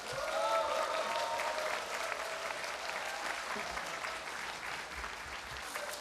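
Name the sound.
applause and cheering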